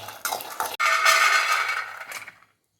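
Peanuts are dry-roasted in a pan until golden, stirred with a utensil so the nuts rattle and scrape against the metal in a few close, brisk bursts before stopping abruptly.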